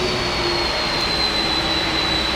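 Simulated McDonnell Douglas MD-11 jet engines from Flight Simulator X idle while taxiing, giving a loud, steady roaring whine with sustained high tones and no breaks.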